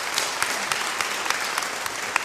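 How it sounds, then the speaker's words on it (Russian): A large audience applauds at a sermon, a dense, even wash of many hands clapping at a moderate distance, with a few sharper individual claps standing out. "можно аплодировать, Давайте."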